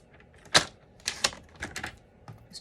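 A paper trimmer cuts down a photo in a papercraft setting, with a few sharp, close clicks and slides of the blade and small taps of paper handling. The sounds are irregular and quiet, with no talking.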